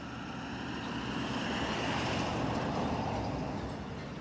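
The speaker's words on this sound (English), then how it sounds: "Here comes a car." A broad, steady rush of a car going by, swelling slightly in the middle, with wind noise over the microphone and no talking.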